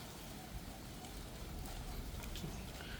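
Steady rain pours down during the rainy season in the Visayas, a dense, even hiss of drops on surfaces with a few brighter spatters, continuous and fairly soft, with no voices.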